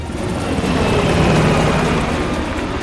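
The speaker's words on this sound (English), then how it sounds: "the chopper got away!" A helicopter flies away in the video game Call of Duty Black Ops Cold War, a loud, steady engine and rotor roar that fills the scene without pause.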